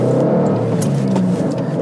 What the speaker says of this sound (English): there's like a ton of cars coming right now